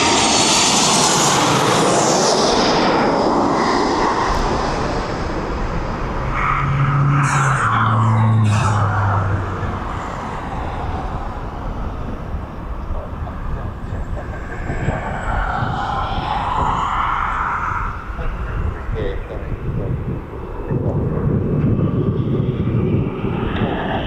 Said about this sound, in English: And Ryanair in from Malaga